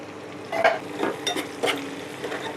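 Sliced onions fry in a pan, with soft sizzling broken by a few scraping strokes of a spoon stirring them, close and fairly quiet with no voices.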